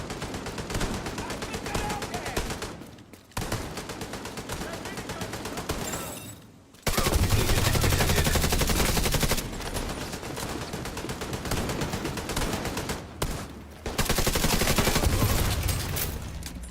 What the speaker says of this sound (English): What the heck are they shooting at?